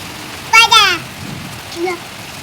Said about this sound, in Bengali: বৃষ্টি স্টার্ট হয়ে গেছে